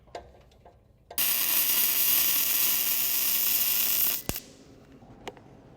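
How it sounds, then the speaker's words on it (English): Exhaust system being welded together on a Bel Air bracket racer: a loud, steady crackling hiss runs for about three seconds and then cuts off abruptly, with a few faint clicks and taps before and after. "check everything for clearance, then weld it all together"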